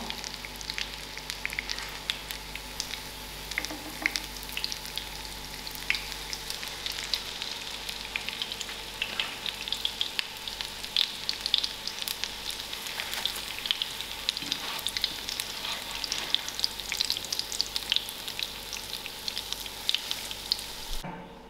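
Spicy mackerel fish cakes frying in a pan, a soft, continuous sizzle with fine crackles and occasional faint pops, steady and unbroken for about twenty seconds.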